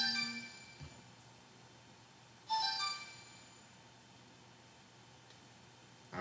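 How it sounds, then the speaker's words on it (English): Phone notification chimes sound twice, a bright ringing tone at the start and another a few seconds later, each fading out over a faint quiet background. "I forgot to put my phone on Do Not Disturb."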